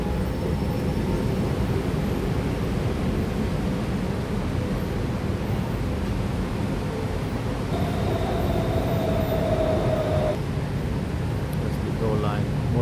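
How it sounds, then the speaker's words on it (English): A Gold Line monorail train passing in Bangkok, a continuous loud low rumble and rush of motion with faint higher tones near the end. "That's the Go Line monorail."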